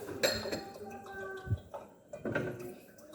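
A spoon stirs sugar into blended guava juice in a glass, giving a few sharp clinks and scrapes against the glass, interspersed with a person talking nearby.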